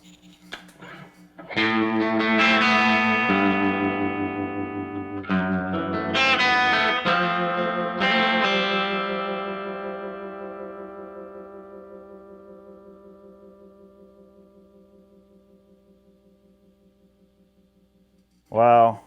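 A single sustained electric guitar chord through a Crazy Tube Circuits Memphis pedal and tube amplifier rings out loud and rich with warm distortion and reverb, then decays slowly for many seconds before a brief final strum.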